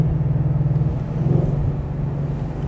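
A 2024 Ford Mustang convertible coasting off the throttle: a deep, loud, pulsing exhaust rumble with a throbbing low burble, heard up close and steady throughout.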